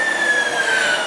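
A train pulling into a station platform, with steady rail noise and a long high wheel squeal running across the whole moment, loud and close.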